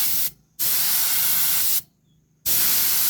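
An H&L R2 Pro Series spray gun fires three loud, steady hissing bursts of spray, separated by two short silent pauses.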